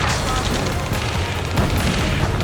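Dense gunfire and booming explosions roar continuously in Ace Combat 7, a loud, unbroken wash of blasts and shots.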